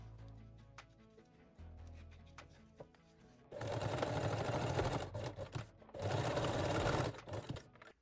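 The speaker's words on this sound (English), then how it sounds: "Secure the strap loops and thread and sew the straps." A sewing machine stitches the straps of a nursing bralette in two loud, steady bursts of about a second and a half each, preceded by quieter handling clicks and a low hum.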